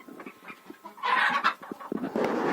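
Several chickens cluck and squawk close by in busy, overlapping bursts, with some louder excited calls.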